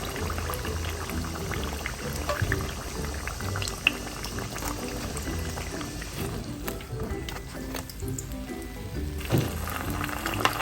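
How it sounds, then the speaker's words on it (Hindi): Chicken cheese rolls frying in hot oil on medium-low heat, a loud continuous bubbling and crackling sizzle that runs steadily throughout with scattered sharper pops and no talk. "बस मैं इसी तरह ये सारे फ्राई कर लूँगी जितने मुझे चाहिए"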